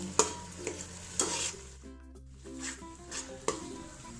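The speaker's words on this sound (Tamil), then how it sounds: "தக்காளி போட்டதுக்கப்புறம் தக்காளியும் நல்லா வதங்கணும்." Tomatoes sauté in a hot pan for mutton biryani, a steady sizzle broken by several distinct spoon scrapes and knocks against the pan, close and clear with no talking.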